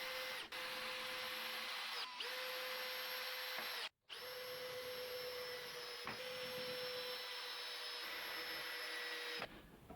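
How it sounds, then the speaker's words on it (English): A power drill pre-drills and drives screws into wooden pieces of a tilting drawing board, giving a steady, loud, close whine that runs almost continuously with a few brief pauses and one short full stop. "Then the pieces could be pre-drilled, countersunk and screwed in position."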